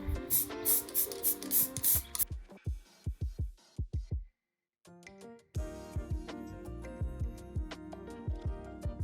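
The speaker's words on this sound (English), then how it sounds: "Now after that white spray paint" White spray paint sprayed lightly onto cheap DIY Warhammer 40K terrain in a series of short hissing bursts of varying length, with one brief silent pause partway through.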